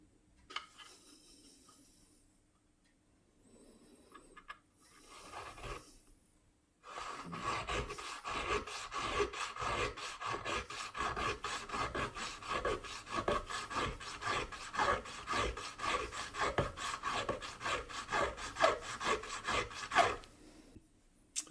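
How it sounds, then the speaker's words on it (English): Steel front sight for a Winchester Miroku 1886 rifle being filed by hand, a long run of rhythmic rasping strokes, close and steady, after a few seconds of quieter scraping and pauses. "this is taking a lot more filing than the last one I got from Skinner"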